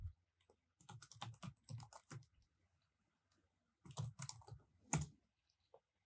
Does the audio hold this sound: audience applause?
no